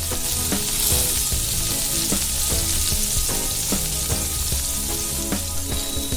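Prawn pancake batter fries in a hot pan, giving a dense, steady sizzle with crackling spits and faint rhythmic clinks of a utensil throughout.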